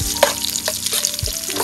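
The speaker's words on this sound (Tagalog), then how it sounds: "Mainit na yung ating mantika, magigisa na tayo." Onion and garlic hitting hot oil in a pan as aromatics for Ilocano pinakbet, a loud close sizzle broken by scraping stirs and the clunk of a utensil, with no voices.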